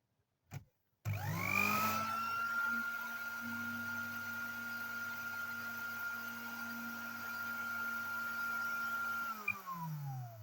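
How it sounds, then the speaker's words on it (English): An electric blender's motor runs with no load, a steady even whine that starts abruptly, holds unchanged for several seconds at close range, then winds down at the end. "So now we'll power on the motor for some time."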